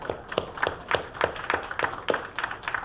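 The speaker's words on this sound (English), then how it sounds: "So another round of applause for that." Audience applause for a conference panel on artificial intelligence and data analytics, a steady patter of many hands clapping at moderate distance, evenly sustained for a few seconds with no voices over it.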